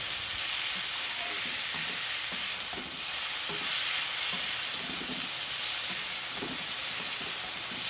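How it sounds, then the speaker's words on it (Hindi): Steady, loud sizzling and frying of potatoes with green chili and onion in a pan on high flame, with faint stirring scrapes recurring throughout. "फ्लेम को हाई करके मैंने आलू को डाल दिया है और बहुत अच्छे से इसको फ्राई करेंगे"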